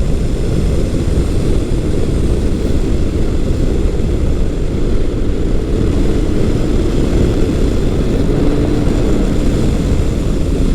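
Kawasaki Concours 1400 sport-touring motorcycle engine heard while riding, a steady loud low drone with rumbling wind noise that holds constant throughout, no talking.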